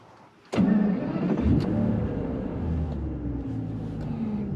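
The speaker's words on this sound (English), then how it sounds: "let's take it out for a drive and hear its glorious V12." A 2001 Aston Martin DB7 Vantage V12 barks into life with a sharp start, then settles into a loud, steady, rumbling idle close by, with no talking.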